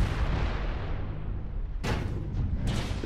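Weapon fire in MechWarrior Online from a Gauss-armed mech, two sharp broadband blasts about a second apart over a constant loud low battle rumble.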